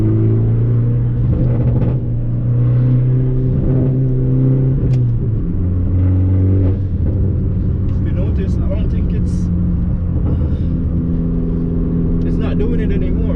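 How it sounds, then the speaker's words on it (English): Fiat Abarth engine with a Forge blow-off valve, revved under boost with a feathered throttle, steady close engine drone with pitch rising and dropping and short valve bursts around it, a voice talking over parts of it. "I'm gonna give it some boost and kind of feather the gas pedal so the blow off valve can open and shut"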